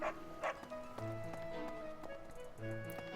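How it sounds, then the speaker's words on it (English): Dogs in Fire Emblem: Three Houses give a few short barks over a gentle melodic game music backdrop. "They're dogs. Dogs always bark."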